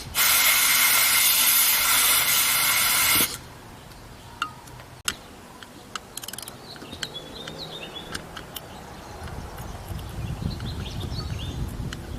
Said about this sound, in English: I'm going to take the spring out, blow a little air through it.